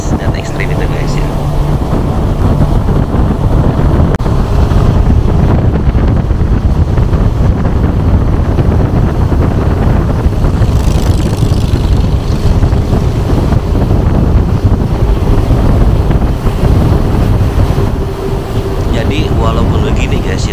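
A speedboat on the Mahakam River powers through strong, extreme rapids, with a constant loud roar of engine, rushing water and wind buffeting close up, and voices talking over the din throughout.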